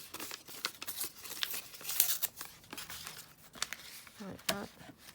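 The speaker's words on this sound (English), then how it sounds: "So let's just tear this down. I do like the torn, you know, the torn effect. So yeah, just tear that one" Paper print scraps being torn by hand, a few ripping and crinkling bursts spread across the stretch, close and fairly soft, with a person talking over parts of it.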